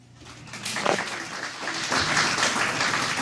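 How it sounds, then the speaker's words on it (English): A crowd claps steadily, the applause building slightly and holding at a moderate level for a few seconds, with no talking. "give yourself a hand clap"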